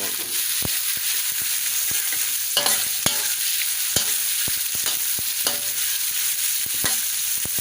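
Pork liver stir-fried in a pan with sweet peppers, a continuous loud sizzle broken by repeated sharp scrapes and clacks of a utensil stirring against the pan, no talk.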